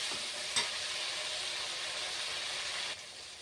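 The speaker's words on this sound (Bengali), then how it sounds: "এবার ভালো করে কষতে থাকবো।" Chicken is stirred and fried in spice masala in a pan, a fairly faint but continuous sizzling hiss with one brief scrape near the start and a slight drop toward the end.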